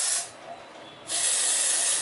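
Two bursts of aerosol spray hiss, a short one then a longer steady one after a brief pause, close and fairly loud.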